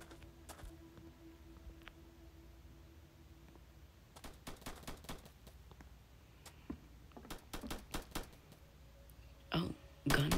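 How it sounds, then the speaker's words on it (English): Gunfire in Roblox Piggy: Book Two, faint at first, then clusters of sharp cracks and rapid bursts that grow louder toward the end over quiet game ambience. "Oh, guns?"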